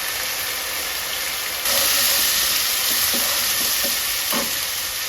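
Ginger garlic paste sizzling and frying in a pan for a country-chicken (natukodi) curry, a steady hiss that swells louder partway through, with a few soft stirring knocks near the end; no talking.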